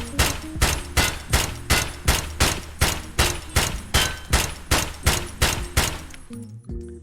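An SKS rifle fired in Escape from Tarkov, a steady series of about a dozen evenly spaced sharp shots, loud and close, ending with the clack of the weapon settling.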